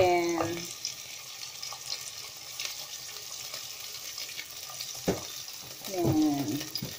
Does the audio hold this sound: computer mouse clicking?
no